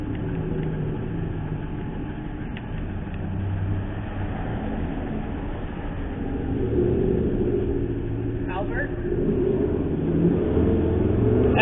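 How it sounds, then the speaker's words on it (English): A parked car's engine rumbles loudly and continuously outdoors in a downtown jail alley, swelling slightly as it revs, steady and close with no talking. "There's a car just sitting over here being very loud."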